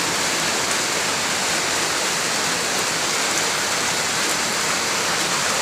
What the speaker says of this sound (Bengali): এই দেখো, অবশেষে বৃষ্টি দেখা মিলল একটু।